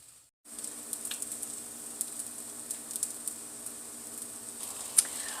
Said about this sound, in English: Okay, you don't need to watch this sizzle